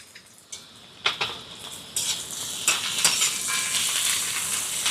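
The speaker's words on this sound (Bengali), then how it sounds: "এবারে দিয়ে দিচ্ছি একটুখানি আদা রসুন" Crushed ginger and garlic hit hot oil with onions already frying for potato patties, giving a steady close sizzle that swells as stirring scrapes and pops join in, with no talking.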